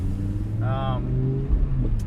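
A 2008 BMW M5 engine with an Eisenmann exhaust gives a steady low rumble under a brief higher tone, fairly close and continuous.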